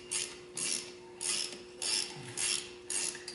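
A ratchet torque wrench clicks as it tightens the crank sprocket bolt on a 2010 Harley-Davidson Ultra CVO motorcycle, in six evenly spaced bursts of close, crisp ratcheting with a faint steady hum underneath.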